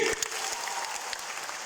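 Burst of audience applause at a youth club event at a medical college, many hands clapping together on cue, dense and fairly close, holding steady for under two seconds before thinning out.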